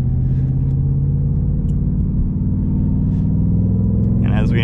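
A 2021-2022 Ford Mustang Mach 1 Premium V8 drones with a deep, steady engine and exhaust rumble while driving with the exhaust valve open in track mode, loud and close inside the cabin.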